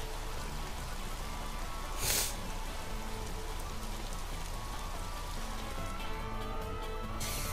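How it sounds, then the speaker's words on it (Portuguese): Rain falls during a race in the F1 Race Stars video game, a steady, soft hiss of downpour with a couple of brief louder splashes, alone without talk. "do nada chove?"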